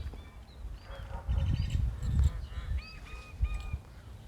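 Several ducks quack and honk in short bursts against an outdoor rumble, moderately near.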